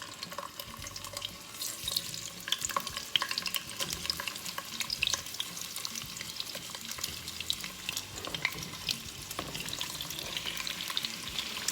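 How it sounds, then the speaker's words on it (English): Sausage frying in hot grapeseed oil in a pan for a Cajun stir fry, a dense, continuous sizzle and crackle with occasional stirring scrapes, close and steady throughout with no voices. "All right, our sausage is getting nice and brown."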